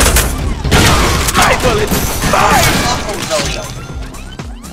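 Gunfire and booming impacts in the Deadpool video game, dense and loud throughout, mixed with crashes and talk over the action.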